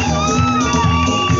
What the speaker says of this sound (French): Qu'on l'encourage avec vos cris de joie.